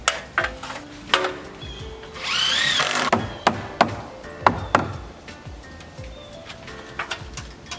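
A board being tacked onto a DIY chicken coop roof: a series of sharp, separate hammer or nail-gun knocks on wood, close and irregular, with a brief whirring power-tool burst in the middle.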